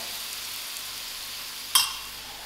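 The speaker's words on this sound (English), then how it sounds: "I leave this masala to fry about 5 minutes" Masala fries in a pan for a curry of green pawpaw, giving a steady, fairly quiet sizzle with one brief sharp spit partway through.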